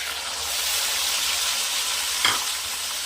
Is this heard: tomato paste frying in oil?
yes